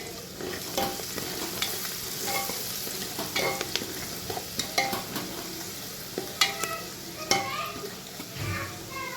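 Chili powder and turmeric stirred into food frying in a pan, with a constant low sizzle and frequent metal spoon scrapes and taps, close and irregular, a faint voice now and then.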